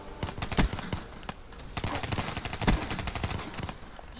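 A submachine gun fires in Call of Duty Black Ops 3 during a gun game match: short, close bursts of rapid shots with sharp louder cracks, with a few brief pauses between volleys.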